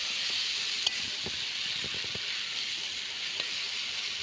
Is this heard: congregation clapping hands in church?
no